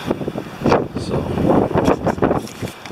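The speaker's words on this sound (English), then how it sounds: "A little windy." Gusty wind buffets the microphone at a lakeside campsite in Algonquin Park, Ontario, with rough, rumbling bursts that rise and falls throughout.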